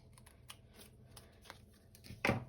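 Scissors snipping paper for a junk journal, a few quiet, sparse cuts close by, ending in a louder crisp snip, with no talking.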